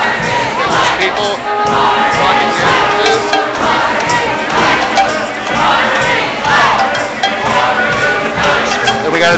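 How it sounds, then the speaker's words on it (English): A large protest crowd at a street demonstration shouts and chants continuously, loud and close, with overlapping voices and cheering swelling in waves. "We got a nice crowd here today."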